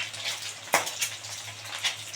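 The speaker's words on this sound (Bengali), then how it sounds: "তেল গরম হয়ে গেছে, এবার ডিমটা দিয়ে দিচ্ছি" An egg sizzles steadily in hot oil in a home kitchen pan, a soft continuous crackle punctuated by one sharp clink of a utensil and a few faint spatters.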